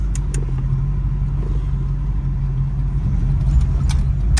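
1938 Ford Coupe with a fuel-injected 5.0 engine driving, a steady rumbling engine and road noise heard from inside the car, with a few faint clicks and rattles.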